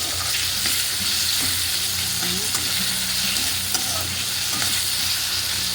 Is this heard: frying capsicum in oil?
yes